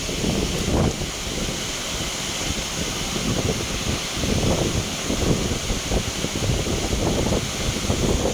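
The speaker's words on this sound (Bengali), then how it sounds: "মোটামুটি বুস্টারে হাওয়া দেয়।" A China-made 4-cylinder booster blower under repair pushes air in a steady, loud, rushing whoosh with uneven low rumbling pulses throughout.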